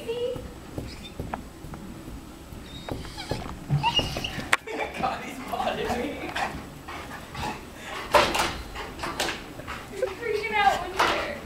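A needy dog whimpers and pants in short, uneven bursts close by, with brief high squeaks mixed in, while people talk over it throughout.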